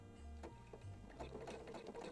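A sewing machine runs a zigzag stitch across a Christmas stocking, a steady close mechanical whir with a rapid rhythmic needle chatter throughout.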